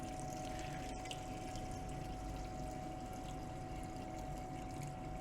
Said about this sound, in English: This is the acid peroxide bubbling bucket that I have outside in my covered container area